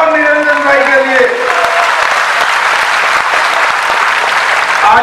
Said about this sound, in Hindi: ताली बजाओ निरंजन भाई के लिए